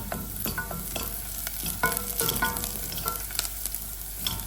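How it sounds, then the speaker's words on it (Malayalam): Sliced onions and curry leaves sauté in an egg-curry pan, giving a moderate steady sizzle punctuated by repeated spatula scrapes and knocks. "സവാള വഴറ്റി മാത്രം എടുക്കുകയാണ് ചെയ്യുന്നത് കേട്ടോ സവാള ഒന്ന് സോഫ്റ്റ് ആവണേ ഇതിൽ കറിവേപ്പിലയും കൂടി ചേർത്ത് കൊടുക്കുന്നുണ്ട്"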